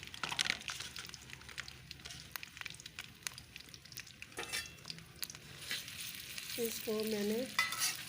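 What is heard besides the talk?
potatoes frying in hot oil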